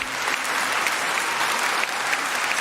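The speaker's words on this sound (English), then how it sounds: "And we applaud both of them." An audience at a televised debate on education requirements for elected officials applauds the speakers, a steady, fairly loud wash of many hands clapping without letup and with no talk.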